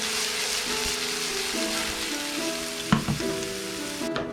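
Chopped onion sizzling in olive oil in a hot pan on high heat, a steady close crackle with a few sharp clatters of utensils against the pan.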